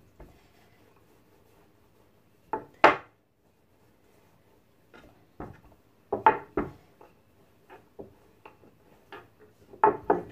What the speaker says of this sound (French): je récupère une boule de pâte que je vais venir étaler bien finement